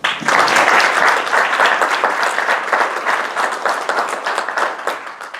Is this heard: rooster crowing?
no